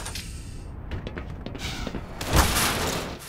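Gunfire in the Half-Life remake Black Mesa, a rapid burst of sharp shots and thumps with a louder blast near the middle, loud and close over game ambience, with no talking.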